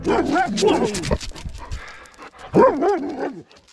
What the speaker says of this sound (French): il lâche le chien, ce chien.